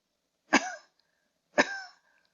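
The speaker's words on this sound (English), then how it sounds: "now cough a few times" Two short, sharp coughs from one person seated during a chair yoga session, spaced about a second apart, close and clear against near silence.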